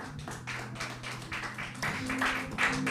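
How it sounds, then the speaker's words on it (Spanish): Members of a church congregation clap together, sharp overlapping claps that grow a little louder toward the end, with no talking over them. "Démosle un fuerte aplauso al Señor."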